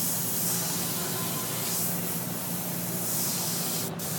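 An airbrush sprays paint onto a t-shirt for a 21st birthday design, giving a steady, close, continuous hiss that runs unbroken throughout, with no talking.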